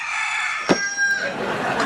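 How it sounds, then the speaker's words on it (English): A rooster named Beaker crows once, a short, loud, rising call heard against a steady layer of background music and ambient noise in a neighborhood setting. "Is that a rooster?"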